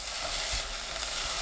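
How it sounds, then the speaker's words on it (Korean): Pork in a tablespoon of cooking oil stir-frying over medium heat in a pot for a cheonggukjang stew, a steady close hiss of sizzling with no voices. "냄비에 식용유 1큰술, 돼지고기 넣고 중불로 볶아주세요."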